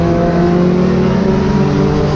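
Motorcycles at a track day at Blackhawk Farms Raceway, a loud, dense onboard engine roar as other bikes pass close by, sustained and droning throughout.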